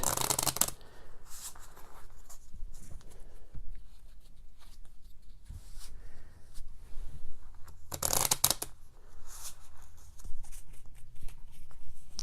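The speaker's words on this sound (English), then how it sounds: "Then we shuffle the deck." Cards are shuffled repeatedly up close, with crisp riffling bursts and softer rustling and sliding in between, and no talking.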